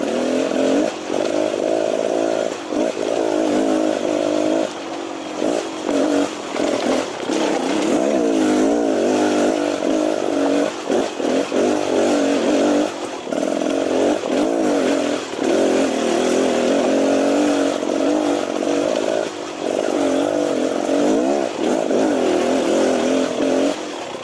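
A 2018 Beta Xtrainer 300 dirt bike lugs in third gear just off idle, its engine chugging steadily and close up for the whole stretch, with small irregular stutters in the low throb.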